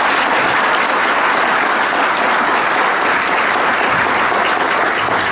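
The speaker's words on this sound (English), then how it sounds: "I request all of you to carry a loud applause to come here" Loud, sustained applause from an audience at a felicitation function, a dense and even clatter of many hands clapping from start to finish with no speech over it.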